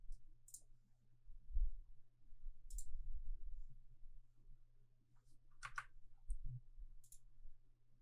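Sparse, sharp computer mouse clicks sound in a quiet room during Windows work on a PC, a few scattered single and double clicks over a low steady hum.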